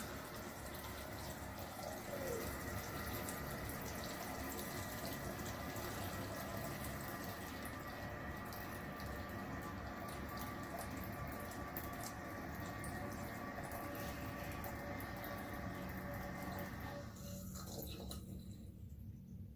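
Toilet tank refilling with water after a repair to a running, leaking toilet: a steady, close rush of water with a faint whine, running unbroken before quieting near the end.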